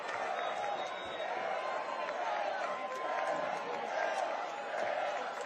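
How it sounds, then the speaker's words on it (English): A distant stadium crowd at a high school football game roars continuously in the fourth quarter, a broad wash of cheering and noise with no quiet moments. "You can hear the crowd. They got some juice back again."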